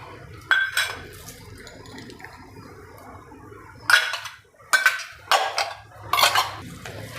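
Crushed cashews, almonds and watermelon seeds being mixed in a bowl for date dry-fruit laddoos, heard as a few sharp scraping and clinking strokes of a spoon against the bowl, close and intermittent, with quiet gaps between.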